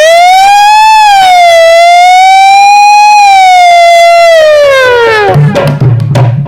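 A voice imitates a siren, a loud sustained wailing tone rising and falling slowly for several seconds before breaking off into noisy bursts.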